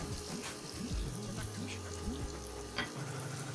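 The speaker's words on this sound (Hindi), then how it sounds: "धनिया पाउडर, दस सेकेंड तक भूनना है।" Coriander powder roasting in a pan for bathua moong dal, a steady close sizzle with faint scraping of a spoon underneath and a hum in the background.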